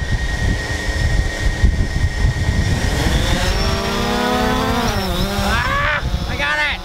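A DJI Phantom 4 drone lifting off, its propellers building a loud whining buzz that rises and bends in pitch, with excited voices talking over it close by.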